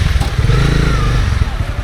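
A motorcycle engine drones steadily and loudly while riding on the road to Hundar in Ladakh, near and continuous with a rough, rumbling tone.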